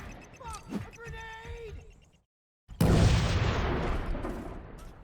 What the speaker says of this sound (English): Do these grenades sound any better?